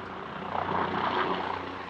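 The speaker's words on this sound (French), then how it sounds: "On va laisser l'hélico passer." A helicopter passes overhead at the beach, its broad engine and rotor roar rising to a peak midway and then easing off. The drone is steady and fairly loud, with no talking.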